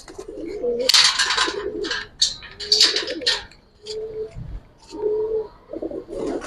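Pigeons in a loft of Giribaz high flyer birds coo in repeated throaty bursts, close by, with some brief chirps between the calls.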